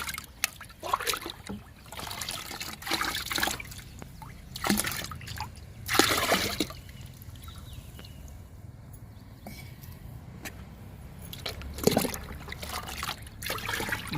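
A fermented paste of rice and ridge gourd is stirred into water to make a liquid plant fertilizer. Irregular sloshing and trickling bursts of liquid come close by, with quiet gaps between them and no talk.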